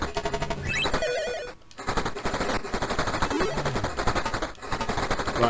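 Rapid machine-gun fire rattles almost continuously through a retro arcade shooter game, dense bursts with brief pauses, loud and alone without talk.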